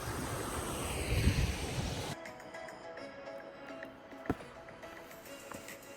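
Ocean surf washing below a cliff on Curaçao, loud and wind-buffeted at first, then fading to a softer, distant wash with occasional faint knocks.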